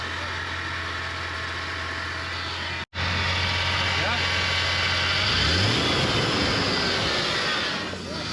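Damaged off-road truck with a holed radiator and smoke from the valve cover, climbing a snowy winter trail, its engine a strained, continuous roar with rattling and a brief cut near three seconds, alongside speech.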